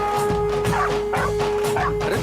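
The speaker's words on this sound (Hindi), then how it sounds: "काला कुत्ता फिर से भौंक रहा है" A black dog barking in a household setting, a series of about four evenly spaced yelping barks over a constant electronic tone, loud and close.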